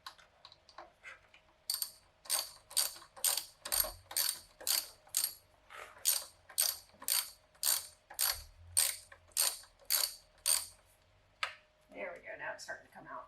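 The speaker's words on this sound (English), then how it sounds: "just loosen it until it actually comes off with the socket" Socket wrench ratcheting a 10 mm bolt loose on an Alfa Romeo Giulia intake, a quick run of sharp, evenly paced clicks repeating close by in steady bursts, with faint talk in the background.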